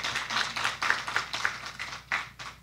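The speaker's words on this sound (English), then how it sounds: "Everybody, round of applause for our visitors." A church congregation gives scattered applause for visitors, a quiet, uneven run of clapping bursts heard from a distance with no talk over it.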